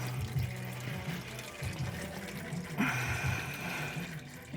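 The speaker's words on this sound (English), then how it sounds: "It's like it's raining oil. So I'll let that drain a little bit." Transmission oil drains and pours from a loosened pan on a 1993 Ford XG, a steady close liquid splashing and trickling that grows brighter partway through.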